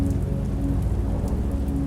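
Steady rain falling on a surface, a dense, even patter with a low rumbling undertone that continues unbroken and fairly loud.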